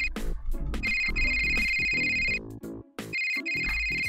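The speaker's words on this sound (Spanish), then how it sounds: "Me están llamando. ¿Dónde habré dejado el móvil?" A mobile phone ringtone in the video game Flatworld plays a bright, repeating electronic melody in loud bursts with brief pauses, alone and close.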